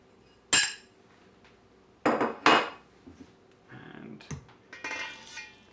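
Ingredients going into a big mixing bowl for gluten-free English crumpets, with several separate clinks and clatters of dishes and utensils against the bowl, close and clear, and no talk.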